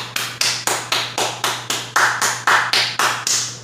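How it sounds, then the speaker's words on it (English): One nearby pair of hands claps in a steady, even rhythm, about thirteen sharp claps over a few seconds with no other voices. "Let's have a round of applause for the motherfuckers out there"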